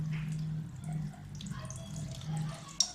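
Water drains slowly from a washing machine's drain outlet that is only partly opened, making a faint, steady trickling and splashing close by with a single brief drip near the end.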